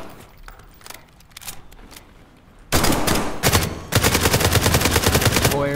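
Full-auto gunfire rattles loudly in the video game SCP:5K, with a few scattered shots first, then a sustained burst and a second longer rapid burst, alone without talk.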